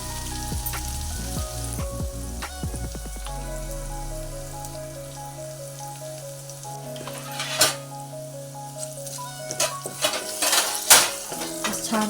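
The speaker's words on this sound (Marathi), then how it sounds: "छान असं परतून घ्यायचं तेलामध्ये मसाला." Garlic and homemade spice masala sauté in hot oil with mustard seeds, cumin and curry leaves, giving a steady close sizzle and frying crackle with scattered pops and occasional clinks of a spoon stirring against the pan.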